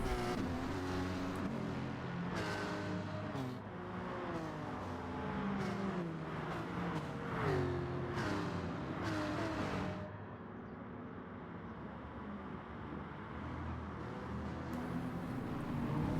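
Race cars roar through a rolling start in a racing video game, with many engines layered and whining upward together before easing into a steadier hum.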